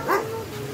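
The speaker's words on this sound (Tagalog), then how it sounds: "laki ang aso" A big dog lets out a single short, fairly loud bark near the start, and a low steady background hum continues after it.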